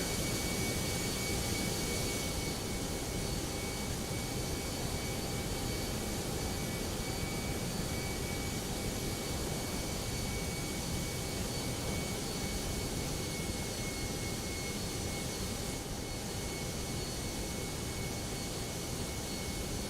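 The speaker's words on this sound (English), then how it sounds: "I think the engine is a bit loud." Jet engines of an A320 in the X-Plane 12 flight simulator roar as a steady, loud, broadband drone with faint tonal whine, continuous and unbroken with no talk over it.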